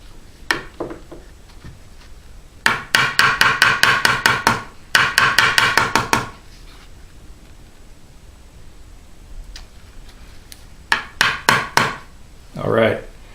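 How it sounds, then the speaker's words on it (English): Rapid bursts of sharp, ringing hammer taps seating metal frets into the wooden fingerboard slots of a 1978 Martin HD-28 guitar, several quick strikes per run, separated by pauses, close and loud. "they're doing just fine with the hammer"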